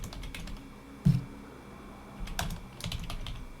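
Someone types the word Pillbug on a computer keyboard, a few quiet, scattered keystrokes with one sharper tap, faint and close against a low background hum.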